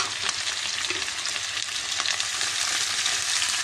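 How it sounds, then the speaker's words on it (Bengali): Dried fish fries in a pan with ginger garlic paste, giving a dense, steady close sizzle with faint stirring scrapes throughout. No one speaks. "এটাকে আমি এখন ফ্রাই করে নিচ্ছি।"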